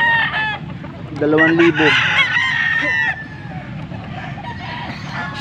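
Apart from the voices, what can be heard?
stag (young rooster) crowing and clucking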